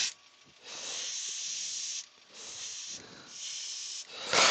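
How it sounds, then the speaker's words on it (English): Spray gun painting a model, laying darker colour with light overspray feathering onto a yellow area; three steady hissing bursts of about a second and a half each, close and even, with short pauses between and no talking. "if you hold your gun this way, you get a little bit of overspray onto the yellow to give you that sort of feathered in look"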